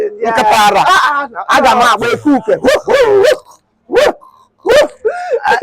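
A voice imitates a Chihuahua dog barking, with loud repeated yapping bursts blended into animated talk.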